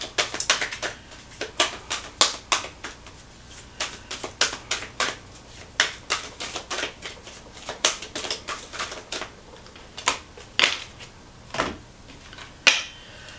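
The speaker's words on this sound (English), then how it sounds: "I'm going to grab you a couple of Universe Has Your Back cards." Universe Has Your Back oracle cards handled and shuffled during a card reading, giving a steady series of sharp, close flicking snaps and riffles that repeat irregularly throughout, with no voice.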